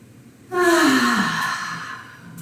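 A single long yawn during a morning stretch rises suddenly, then slides down in pitch and trails off into a breathy exhale, close and alone.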